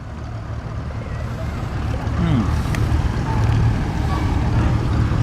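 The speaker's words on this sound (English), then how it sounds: "Coming up behind now is a Field Marshal. These are wonderful tractors." A Field Marshal Series 3 tractor approaches at an old time rally, its engine a low steady rumble that grows slightly louder as it draws nearer, with faint outdoor background noise.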